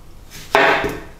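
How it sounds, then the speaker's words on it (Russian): A knife cuts through an onion into wedges on a board, one crisp crunching slice ending in a dull thud, close and loud, no talking. "Лук я буду вот так резать дольками"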